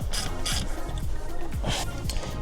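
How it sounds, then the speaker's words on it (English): An 8mm socket ratchet tightening a clamp on a Subaru WRX STi, with a series of quick, close, clicking pawl bursts in an uneven back-and-forth rhythm. "So I have an 8mm socket. Love that, feels good. Tighten this one."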